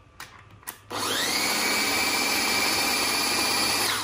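A Cuisinart stick blender runs at high speed, kicking in after a few clicks and holding a loud, steady high-pitched whine close up until the end.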